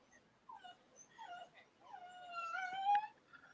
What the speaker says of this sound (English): let the damn dog out